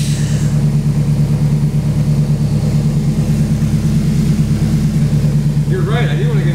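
A turbocharged Honda S2000 engine idles with a steady low rumble throughout, loud and close, while a person talks briefly near the end.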